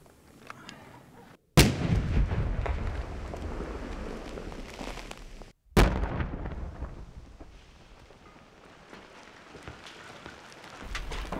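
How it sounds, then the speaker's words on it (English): Two loud demolition blasts from bar mines destroying Taliban ambush positions in Afghanistan, each a sudden booming explosion followed by a long rumbling decay, the second arriving about four seconds after the first, with no talk. "Engineers wasted no time laying bar mines to destroy them."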